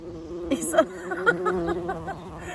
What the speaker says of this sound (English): Oh, I've got a bee, a little bumblebee.